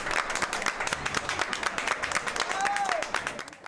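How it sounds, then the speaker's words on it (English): Audience clapping at a benefit concert, a run of separate, fairly distinct hand claps with a loose rhythm, and a voice speaking over the clapping. "Let's clap it out."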